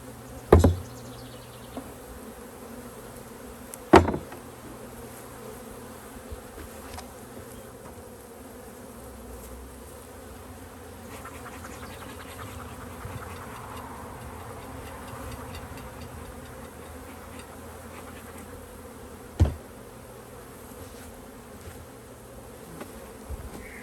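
Honey bees from a swarm hive in Western Michigan buzz in a steady, moderately close drone that runs throughout, with a few sharp clicks or knocks standing out near the start and again later.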